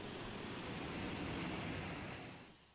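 A train pulling into a station in the video game Dialtown, a steady loud rumble of rolling wheels and rail noise with a faint high squeal, fading slightly as it comes to a stop.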